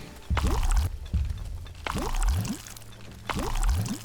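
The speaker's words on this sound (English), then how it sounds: "Why does it make the pouring sound?" Pouring effect from the settlement-building game The Wandering Village, repeating three times with a rising liquid-filling sweep each time, fairly loud against faint background game ambience.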